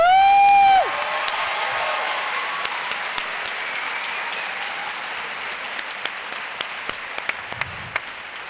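A crowd at a French debate event answers with applause after a brief tone at the start, the clapping fairly light and scattered, with individual claps standing out as it tapers.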